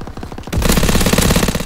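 A loud burst of rapid automatic gunfire in the Call of Duty WWII beta, sustained fire kicking in after a few quieter shots and continuing steadily to the end.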